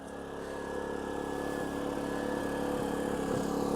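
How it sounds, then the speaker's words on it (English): A steady, smooth engine hum drones on without pause, a small Erayak inverter generator running evenly at moderate volume with a faint tonal whine. "let's go check on the generator and see how it's running"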